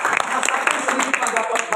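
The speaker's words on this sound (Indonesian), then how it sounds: "Boleh nggak kita berikan tepuk tangan yang paling meriah?" A church congregation at a Sunday service at GBI Sungai Yordan in Depok breaks into lively applause, a quick burst of many hands clapping while a voice carries on over it.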